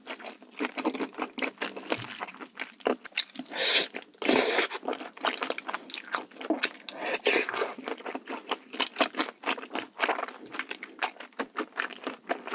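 Close, wet chewing of cooked lung during a mukbang eating session, with irregular bursts of squishy crunching and mouth sounds and short pauses between bites, no talking.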